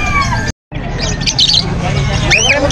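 Lutino African lovebirds at a pet market in Angeles City give shrill squawks and chirps amid crowd babble, with a brief gap of silence early on.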